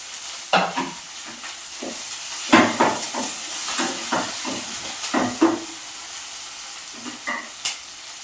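Fenugreek and drumstick leaves fry in a pan for a chutney, a steady sizzle and hiss broken by repeated clinks and scrapes of stirring at close range.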